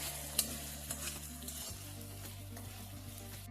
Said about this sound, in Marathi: साधारण 1 मिनिट मी सिमला मिरची नीट परतून घेतली.